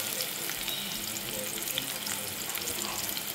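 Chopped onion frying in oil in a pan, a steady, dense sizzle and crackle that holds at an even level throughout with light stirring underneath.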